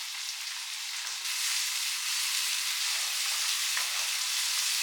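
Chopped onions and tomatoes fry in a pan for egg Maggi, giving a continuous dense hiss that gets a little louder partway through, with a couple of soft stirring knocks and no voices.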